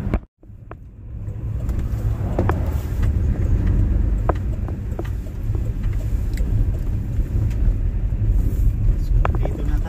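A car drives along a road with a steady low rumble of engine and tyres throughout, and a person talks over the road noise from inside the vehicle.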